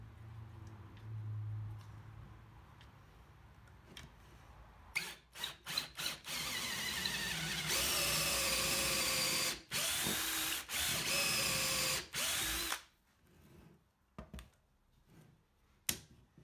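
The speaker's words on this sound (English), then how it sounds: "I could use it to drill a hole in the end of each leg" A power drill whirs loudly boring holes in the ends of wooden stool legs, in several sustained bursts, with short stops between and faint clicks and knocks before and after.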